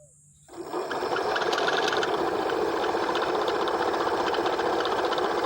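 A generator kicks in after a brief quiet moment and runs steadily, powering a submersible pump with a loud, even mechanical drone and a fast rattling chatter that continues without a break.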